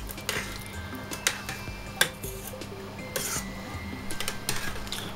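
A utensil scrapes and clinks against a pan while caramel pork is stirred, with soft irregular taps and faint sizzling close by.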